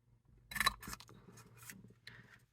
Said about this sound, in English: I've got my punch, one of my pick a size, pick a label punches. I'm going to feed that up through there.